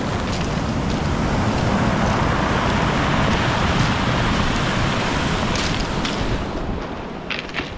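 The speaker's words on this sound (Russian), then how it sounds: "Ах, как волны здорово об него разбиваются и сюда заходят," Sea waves from the Black Sea at Kabardinka break against the wreck of the cargo ship Rio and wash up onto the shore, a loud continuous roar with gusty wind and no voices.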